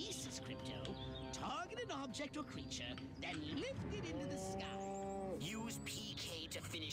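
Cows moo in the video game Destroy All Humans, drawn-out bovine lowing mixed with game effects and music, beneath someone speaking over the gameplay.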